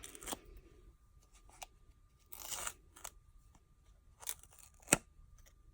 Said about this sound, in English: we're going to go ahead and pull off our backing of all these pieces